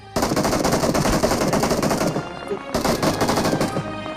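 Rapid, loud machine gun bursts from BGMI (PUBG) gameplay, two sustained volleys separated by a brief pause, dense and close.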